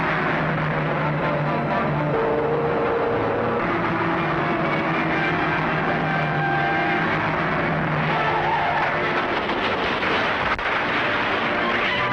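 A 1940-era car races along as one driver forces another off the road, engine roar and skidding tires blending in a loud, continuous rush with passing vehicle noise.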